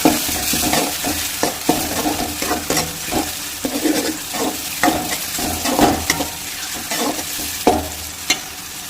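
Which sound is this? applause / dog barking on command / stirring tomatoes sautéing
stirring tomatoes sautéing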